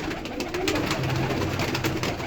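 Pigeons, spotted and blue tumbler-type play birds, coo softly and repeatedly in a close, enclosed coop, with low murmuring calls overlapping one another.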